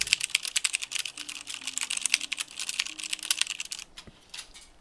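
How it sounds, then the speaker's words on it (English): Fast typing on a computer work keyboard, up close, with dense rapid key clicks and clacks in uneven bursts that stop near the end, and a faint low hum underneath. "here, this is my work keyboard."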